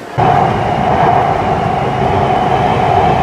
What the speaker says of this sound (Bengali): আমাদের মেট্রো চলে এসছে এদিকে